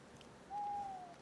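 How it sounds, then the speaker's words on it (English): One soft, drawn-out owl hoot in a hunting video game, a single faint call rising out of a quiet background and tailing off. "I know there's an owl there too"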